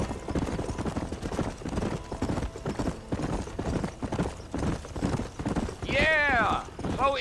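Horse hooves clip-clop steadily at close range in the Western video game Red Dead Redemption, joined near the end by a whinny, with voices talking over the trotting.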